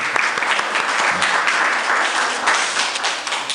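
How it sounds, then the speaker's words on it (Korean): A church congregation applauds its choir, a dense, steady wash of clapping from a full room that holds at an even level throughout. "우리 박수 한번 또 격려 박수 한번"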